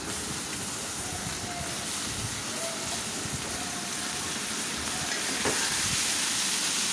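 Chopped tomatoes hit a hot pan for a tomato bharta, giving a steady, dense sizzle and crackle that holds evenly throughout, close and fairly loud, with a faint scrape near the end.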